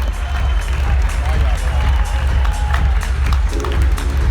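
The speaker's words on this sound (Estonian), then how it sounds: "Head teeb aplausi." Loud, steady crowd noise with applause and cheering fills a fight venue after the second round of a club bout, with mixed voices throughout and no pause in the din.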